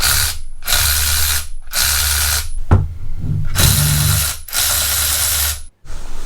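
A Hercules 12V cordless brushed 3/8 in extended reach ratchet whirs loudly and up close in about five bursts of roughly a second each, separated by short pauses, with no talking.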